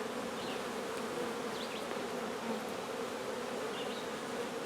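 Honey bees buzz steadily inside a hive box holding honey, nectar and pollen, a close, continuous droning hum with a few brief higher buzzes of single bees passing near.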